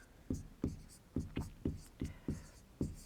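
Handwriting on a board during a maths statistics lesson comes through as about eight crisp, evenly spaced taps and short strokes, close and clear against a quiet room.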